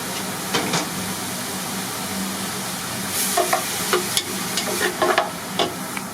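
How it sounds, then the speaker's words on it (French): Leeks sweat in a pan, giving a soft, steady sizzle with intermittent stirring scrapes and clinks close by, no voices. "Là on va faire suer un peu."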